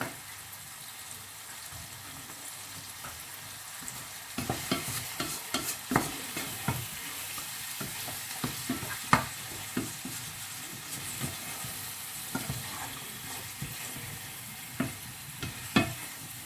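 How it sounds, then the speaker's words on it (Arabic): Onions and turmeric fry in hot oil, a steady sizzle broken by frequent scraping and clacking of a spoon stirring against the pan, quiet at first and growing busier with irregular sharp strokes. "باش يتقلى مع البصل"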